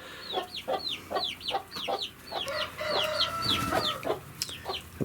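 Chickens in a small indoor coop cluck in quick repeated bursts, several birds calling close by with rising squawks and a busier cluster of calls near the end.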